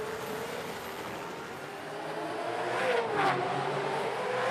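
A distant Supercars race car engine on a circuit drones and rises as it revs past through a left-hand turn, the pitch sweeping briefly before settling into a steady hum.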